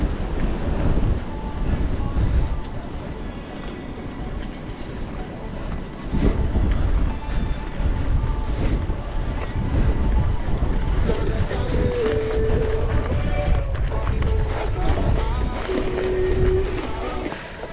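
Strong headwind roars across the microphone during a Sunday cross-country mountain bike ride, a continuous loud rushing buffeting with gusty surges, mixed with faint mechanical rattles and brief tonal squeaks.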